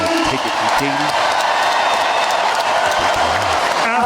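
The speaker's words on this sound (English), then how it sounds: "Another round of applause for these two tonight." Arena crowd at a championship women's boxing bout applauds and cheers after ten full rounds, a dense continuous roar of clapping and whoops with scattered voices over it throughout.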